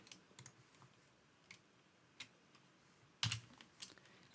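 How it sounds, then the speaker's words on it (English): Several light computer keyboard key presses tick sparsely in a quiet room, with one sharper, louder tap near the end among softer clicks. "Pressing 1 on the keyboard."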